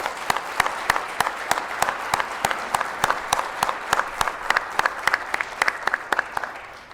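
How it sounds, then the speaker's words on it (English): Audience applause at the NASDAQ opening bell ceremony: a sustained crowd clap with one or two nearby hands striking loud, evenly spaced claps throughout. "I think that deserves another round of applause"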